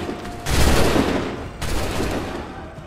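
Musket volley gunfire in the Assassin's Creed 3 video game: two loud, close, crackling broadside volleys, each a dense burst of many shots rolling into a sustained rumble, with a brief dip between them.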